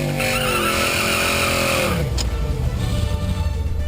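A muscle car with a rebuilt T5 manual transmission, fitted with 5-point harnesses, drives at a drag strip: a loud, steady engine roar with rising and falling gear tones that gives way to rougher, throbbing rumble, heard close with no talk.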